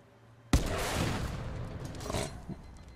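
A single heavy gunshot-like blast from a turret gun in Titanfall 2, followed by a sustained roaring burst with a second surge near the end.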